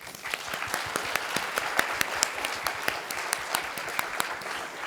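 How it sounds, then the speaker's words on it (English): An audience applauds the student competitors from about twenty secondary schools at a global student challenge, with steady dense clapping throughout. "Maybe we can give a round of applause to them."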